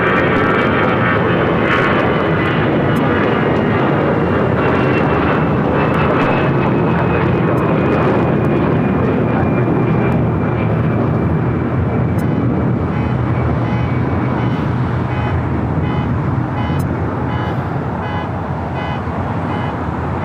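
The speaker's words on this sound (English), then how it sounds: "we do have that Delta A320, originally with Northwest, now taking off to Dallas" A Delta Airbus A320, formerly flown by Northwest, takes off at LAX bound for Dallas–Fort Worth, with a loud, steady jet engine roar that holds for the whole stretch and eases slightly near the end.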